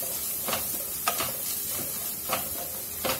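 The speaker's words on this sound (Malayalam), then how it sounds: "ആ പൊടികളുടെ ഒക്കെ ഒരു പച്ചമണം മാറുന്ന വരെ നല്ലോണം ഒന്ന് ഇളക്കി കൊടുക്കാം" Spice powders, including garam masala, fry in a pan for egg biryani while being stirred; a constant sizzle is punctuated by several brief scraping strokes of a spoon against the pan.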